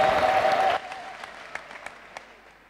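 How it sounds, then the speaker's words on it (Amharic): Church congregation applauding with a steady ululating trill over it, the clapping and ululation cutting off sharply after under a second, leaving a few scattered faint claps and a quiet room. "አረ ከዚህ በላይ እልልታ ጭብጨባ ለጌታ"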